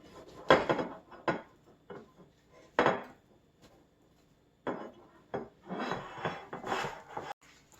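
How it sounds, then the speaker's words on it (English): Butter being rubbed over a baking pan, with irregular scraping, knocks and clatters of the metal pan close by and brief quiet gaps between. "just go in with a little bit of butter. Rub it all over your pan"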